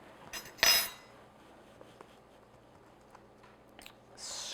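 A spoon scrapes freshly churned vanilla ice cream off the warming bowl of an ice cream maker, giving quiet scrapes and metallic clinks: one louder scrape near the start, then faint taps, and a brief hissy rub at the end.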